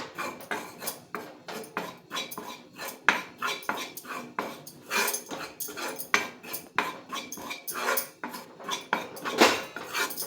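A utensil repeatedly scrapes and clanks against a pan while burfi mixture is stirred and roasted over medium heat, with steady rhythmic strokes, close and fairly loud, no voices.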